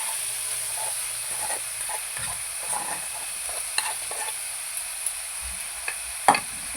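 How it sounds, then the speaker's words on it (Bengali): Banana flower and boiled lentils are stirred together in a pan over a soft, steady sizzling hiss. Intermittent scrapes of the spoon sound close, ending in a louder knock against the pan. "ভালো করে নেড়ে চেড়ে নেবো, মোচাটা যেন ডালের সাথে মিশিয়ে যায়।"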